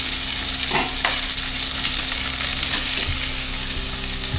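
Food sautéing in hot cooking oil, with a loud, close, continuous sizzle and faint knocks of a utensil in the pan.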